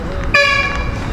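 A truck horn blares on a city street in Cebu City, Philippines: one sudden, sustained loud honk that stands out over steady traffic and street noise.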